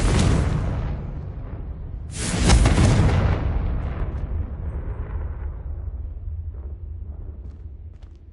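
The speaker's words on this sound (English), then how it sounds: "Confringo! Incendio!" A Confringo spell blast goes off in the video game Hogwarts Legacy, two loud booming explosions, the second swelling larger before a long rumbling decay, with no voices.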